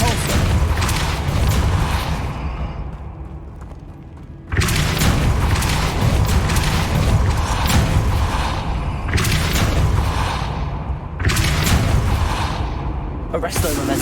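Depulso force spell blasts in Hogwarts Legacy: loud, broad whooshing booms that cut in abruptly, with a sharp burst near the middle and another late, between stretches of rumbling game noise, with a voice speaking over it.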